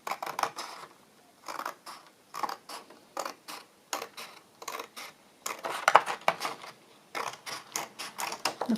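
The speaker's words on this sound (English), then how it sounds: "I'll cut that out, I think." Scissors cut out a paper map for a vintage travel journal, a run of short, crisp snips in an irregular rhythm, close and fairly quiet, with no talking.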